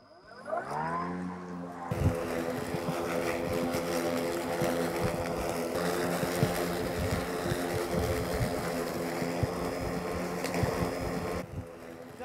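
A Grin BM46 82V battery lawn mower spins up with a rising whine, then cuts through grass about 10 to 15 cm tall in eco mode, giving a steady close hum with rough chopping texture before winding down.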